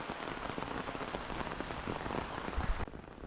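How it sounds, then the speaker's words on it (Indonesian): Heavy, prolonged rain pounds a camping tent at a hillside campsite in Wanayasa, Purwakarta, a dense, even patter filling the space close by, steady and unbroken throughout with no voices. "Hujan cukup deras dan cukup lama"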